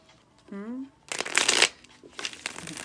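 Tarot cards being shuffled by hand, a loud close riffling burst followed by softer shuffling, preceded by a brief vocal sound.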